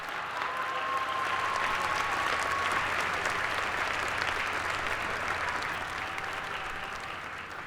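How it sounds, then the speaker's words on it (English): Sustained audience applause at a dual enrollment recognition ceremony, a steady wash of many hands clapping at even loudness for several seconds before slowly thinning out, with no talk over it. "Let's give them all a big round of applause."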